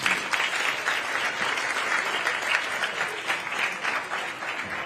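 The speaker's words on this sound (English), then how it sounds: "So let's give them all a round of applause." A church congregation applauds vendors and a committee, a full, even wash of many hands clapping at once, steady and sustained throughout with no pauses and only faint voices beneath.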